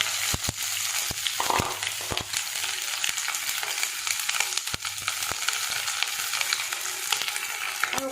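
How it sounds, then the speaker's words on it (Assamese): Onions sizzle steadily in hot oil with bay leaf, cloves and cinnamon. The dense frying hiss is broken by scattered ticks and scrapes of stirring. "এতিয়া এড কৰিম মই পিঁয়াজখিনি"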